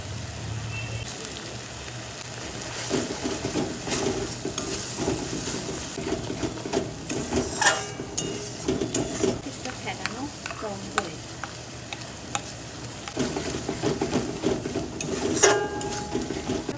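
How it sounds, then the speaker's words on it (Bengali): Spices with cumin and chili powder sizzle and crackle as they are stir-fried in a pan, with a ladle scraping and clinking through the steady frying noise; close, continuous and moderately loud, with no voice. "একটু কষিয়ে নিতে হবে"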